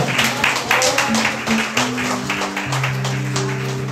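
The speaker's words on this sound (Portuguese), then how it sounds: "Uma salva de palmas ao Senhor." A church congregation applauds together during a Sunday service, a dense wash of clapping with sustained organ or keyboard chords ringing underneath.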